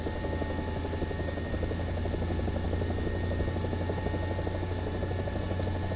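A helicopter in the War Thunder combat game, heard from inside a simulator cockpit: a constant rotor thrum and droning engine whine hold evenly, with steady tonal hums above and no talk.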